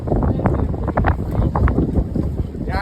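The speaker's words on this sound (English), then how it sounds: "as you can see, it's very windy today" Strong, cold wind sweeps across the Detroit River on a below-freezing day, gusting and buffeting the microphone in uneven rumbling bursts throughout.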